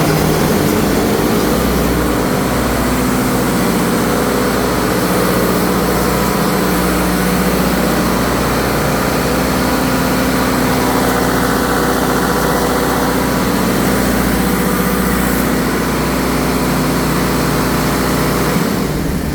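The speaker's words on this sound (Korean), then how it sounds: "제어반을 통해서 엔진을 한번 돌려보도록 하겠습니다." A Dongin CL fire pump engine, fitted with a new starter motor and batteries, runs at a steady idle with a constant low rumble and vibration, close and loud with no talking.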